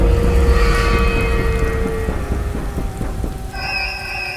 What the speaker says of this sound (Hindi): तेज बारिश, गरजते बादल, टीम की छत पर गिरती बूंदों की आवाज